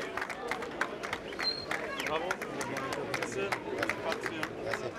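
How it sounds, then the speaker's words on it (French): Spectators clap at the pétanque world championship in Parc Borelli, Marseille, a steady outdoor patter of many hands blending with crowd murmur and a voice talking over it throughout. "Et donc le public qui applaudit"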